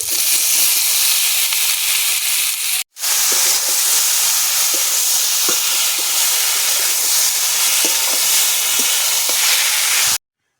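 Boiled taro stolons cook with spices in a pan, giving a loud, steady broadband hiss of frying that cuts out briefly near the start and again at the end, with faint stirring ticks underneath and no talking.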